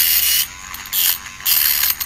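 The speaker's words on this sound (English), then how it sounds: "the iPhone also isn't strong enough to push the motor, even though it's not even currently cutting anything" A weak electric shaver motor powered directly from an iPhone, running without cutting anything, whirs in three loud, close, buzzing bursts separated by short, quieter gaps.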